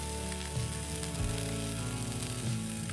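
Chicken sate lilit, Balinese minced-meat skewers, sizzling on a hot grill while being turned with tongs, a steady close hiss with low crackle throughout and no talk.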